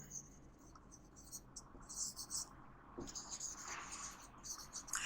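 Scratchy bursts of chalk or marker writing on a board during a biology lesson on the heart's oxygenated blood, coming in short irregular strokes, close and moderately faint over a steady room hiss.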